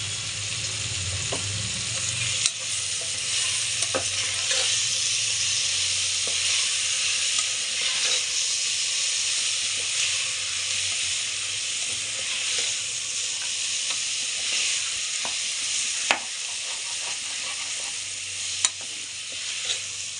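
Masala tea with cardamom, ginger and jaggery boiling in a pan, a steady bubbling hiss with scattered soft clicks of stirring throughout, fairly close and uninterrupted, no voices.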